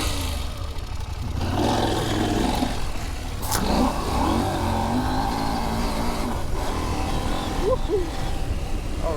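KTM 790 Adventure R adventure motorcycle ploughing through soft, beachy sand on a single track, its engine droning and revving steadily up close with loud wind rush throughout.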